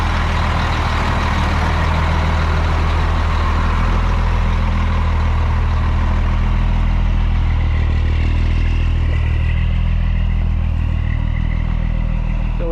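A truck pulls a toterhome out, its heavy diesel engine rumbling loud and close in a steady low drone for nearly thirteen seconds, with faint clatter and no voices.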